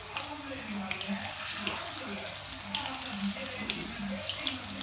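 Pakoras sizzle in hot oil, a steady bubbling crackle that fills the kitchen. It keeps going throughout, with faint background voices underneath.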